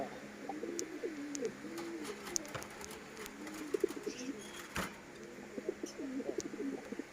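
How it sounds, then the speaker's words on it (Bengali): Bombay pigeons coo in soft, repeated rolling calls against a low background hum, with occasional faint clicks and a brief rustle. "বোম্বাই কবুতর গুলো একটু দেখেন এগুলি হচ্ছে টপ কোয়ালিটির বোম্বাই"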